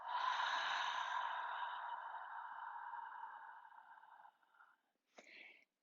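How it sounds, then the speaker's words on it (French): A long Ujjayi yoga exhale, breathed out through a slightly constricted throat, gives a soft, airy, ocean-like rasp that fades over several seconds. A brief breathy puff follows, close and quiet, with no talking. "C'est une respiration Ujjayi qui apaise beaucoup."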